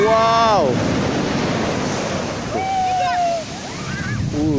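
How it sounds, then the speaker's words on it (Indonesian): Ocean waves rolling and breaking on a beach at Tambak Rejo in south Blitar, a steady loud wash of surf with wind buffeting the microphone, while people shout and call out nearby. "Tuh, datang lagi tuh ombaknya tuh."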